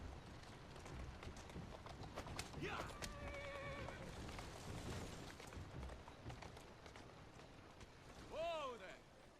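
A horse in the game Assassin's Creed Syndicate whinnies and snorts, with clip-clop hooves and general bustle around it; a rising-falling neigh stands out near the end, and voices are heard under it.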